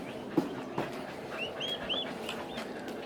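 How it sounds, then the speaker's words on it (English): Baby turkeys on a farm give a few faint, high chirping peeps amid soft background bustle, with a couple of brief knocks near the start. "let's see the baby turkeys. They're right in there."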